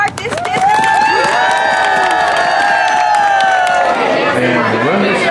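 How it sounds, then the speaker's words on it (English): A crowd in a full room at the ribbon cutting for a new event center claps and cheers loudly and steadily, with whoops and chatter mixed through the applause. "Let's give the event center at 2:05 a big round of applause as we cut the ribbon to start this business."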